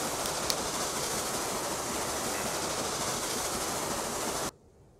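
Steady rumbling train noise in the game Transport Fever 2, with a faint rhythmic clatter, runs continuously, then cuts off abruptly near the end.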